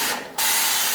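Lubricant spray hisses onto moldy shower caulk on fiberglass before scraping, a loud, close, continuous aerosol spray that briefly dips and then resumes at full strength.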